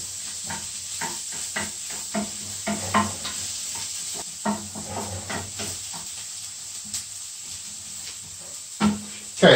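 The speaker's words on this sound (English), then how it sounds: "So we're going to saute that. Just for about 2 minutes." A medium onion sautés in a pan as the base for a curried mince filling for vetkoek, giving a steady close sizzle broken by repeated scraping stirs, with no talking.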